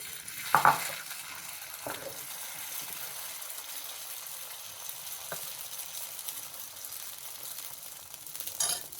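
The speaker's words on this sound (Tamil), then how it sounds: "அதில் கொஞ்சமாக எண்ணெய் விட்டுடுங்க. இந்த மாவை இதில் விட்டுடலாம்." Dosa batter frying in a lightly oiled kadai gives a faint, steady sizzle, with a few soft clinks and scrapes from a utensil near the start and end.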